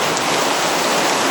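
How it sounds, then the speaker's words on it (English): Heavy rain pours off a roof during a Montana thunderstorm, a dense, steady close-up hiss of water that holds without a break for the whole moment, with no voices. "The water's already pouring off the roof."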